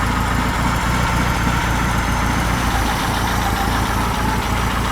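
A custom-built Volkswagen engine idles at low revs while still warming up, giving a loud, steady, even rumble close by for the whole stretch with no talk.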